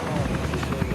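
Military special-operations helicopters fly toward a target house at night, with steady rotor thumping and a dense engine roar that fill the whole moment without a break.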